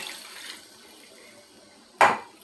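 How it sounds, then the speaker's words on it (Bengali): Water is poured into a cooking pan of chicken feet and liver, a single short loud gush near the end after a quiet stretch. "অনেকখানি জল দিয়ে দিছি"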